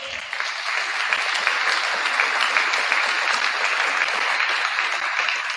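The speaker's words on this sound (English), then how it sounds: "we can give them a quick round of applause" Dense, steady applause from a school awards night crowd honoring standing grade 7 through 12 band members, loud and continuous for several seconds without pause.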